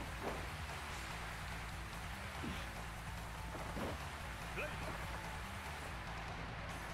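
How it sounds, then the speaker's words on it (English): Steady rain falls in a pro wrestling video game, an even hiss that runs unbroken from start to finish with a few faint sharper ticks, quiet and continuous. "At least it's a regular rain, but it still makes no sense to me."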